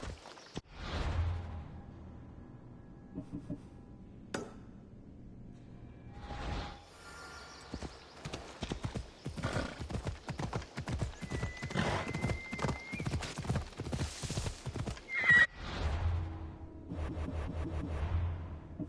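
A horse in Assassin's Creed Odyssey breaks into a gallop with a neigh, its hoofbeats building into a rapid, steady clip-clop up close, with whooshes and another whinny near the end.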